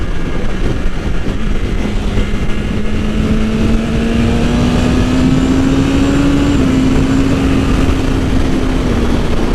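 A 2020 BMW S1000RR M motorcycle engine drones steadily while riding, its pitch slowly climbing and then easing off, loud and close over continuous wind rush.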